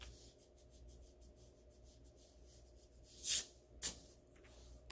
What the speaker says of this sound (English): Erase all those other lines.